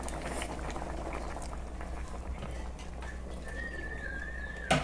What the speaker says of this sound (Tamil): 10 நிமிஷம் நல்லா கொதிக்க விடணும்